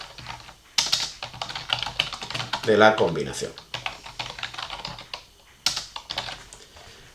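Keystrokes on a computer keyboard typing a file name, a rapid irregular patter of clicks close by, with someone speaking Spanish over part of it.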